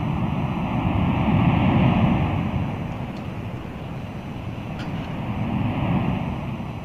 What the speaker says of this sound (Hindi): तो आप समुद्री लहरों की प्रतीकात्मक ध्वनि सुन रहे हैं।